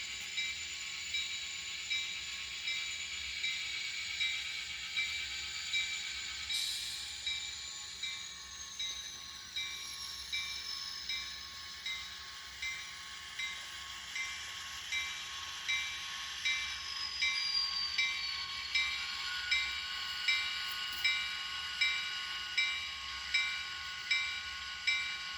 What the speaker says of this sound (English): And here is my newest locomotive. It is a N-Scale Atlas Masterline